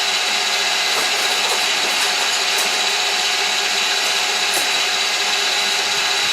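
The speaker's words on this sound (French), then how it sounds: "les blancs sont quasiment finis de monter" An electric mixer whips egg whites for chocolate mousse with a loud, continuous whirring drone, close and unbroken, with faint rattles from the bowl and no voices.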